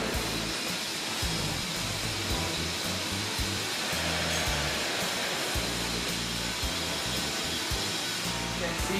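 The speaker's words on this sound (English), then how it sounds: "You can see like this kind of the air shaft, and also the air blower and pelletizing unit." An air blower in a plastics pelletizing factory roars continuously, a loud, steady, broad rushing hiss of air with low mechanical hum underneath, unbroken throughout.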